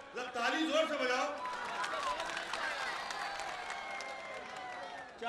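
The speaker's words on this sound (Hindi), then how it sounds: "ताली जोर से बजाओ।" An audience at a Hindi-Urdu poetry mushaira in Pihani, Hardoi, India breaks into brief applause, a burst of clapping mixed with crowd chatter that fades over a few seconds, heard at a moderate distance.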